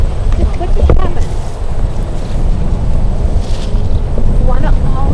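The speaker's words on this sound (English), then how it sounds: "It's windy over here." Strong wind blows outdoors at an obstacle course, buffeting hard and roaring loudly and constantly throughout, with brief voice-like sounds showing through the gusts.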